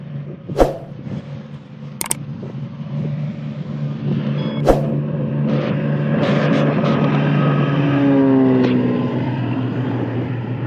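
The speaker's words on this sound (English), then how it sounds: "So as you can see now, the engine is running." Small airplane engine started by pull start, running with a steady droning hum after a few sharp clicks and knocks, rising slightly in pitch and loudness as it keeps running nearby.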